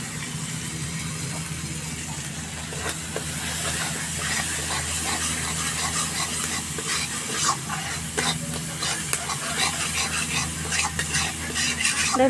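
Ground spices and salt fry in a pan with a steady, dense sizzle, broken by frequent scraping stirs from a utensil; close and continuous, with no talking.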